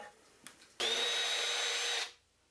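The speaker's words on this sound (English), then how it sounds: "hammer drill the remaining 3" A hammer drill bores into concrete for anchoring a shelf, a steady loud whine lasting just over a second that then stops abruptly, after a few faint clicks.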